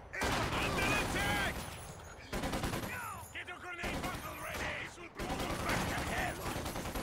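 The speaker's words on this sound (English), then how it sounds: "How about we lob another grenade?" Rapid gunfire and bursts in the Company of Heroes 2 tutorial mission, dense continuous shots and explosions in loud segments broken by brief cuts, with someone talking over the battle.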